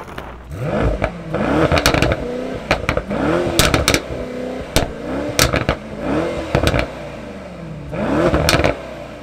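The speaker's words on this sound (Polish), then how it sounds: "wydechy, przez które wydobywa się piekielny dźwięk V8" A Mercedes-AMG E 63 S 4.0-litre V8 of 612 hp revs repeatedly in short bursts, rising and falling in pitch with sharp exhaust crackles between each blip.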